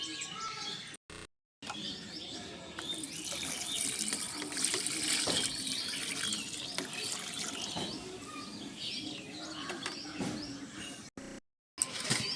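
Water poured over the soil of a freshly repotted potted malta (citrus) plant to soak it thoroughly, a steady splashing flow running for most of the stretch with birds chirping outdoors and two brief cutouts.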